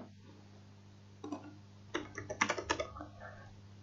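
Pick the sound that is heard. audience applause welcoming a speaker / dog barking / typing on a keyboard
typing on a keyboard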